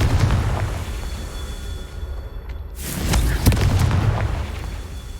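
Casting the Confringo explosion spell in Hogwarts Legacy sets off a sudden fiery blast partway through, which swells into a loud rumbling roar over a busy background.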